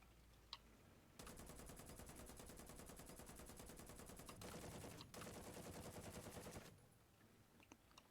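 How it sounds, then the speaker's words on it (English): Tank machine gun in the video game War Thunder: a long, steady burst of rapid automatic fire, briefly broken once, then another sustained burst before it stops, fairly faint overall. "I do like the machine gun sound effect."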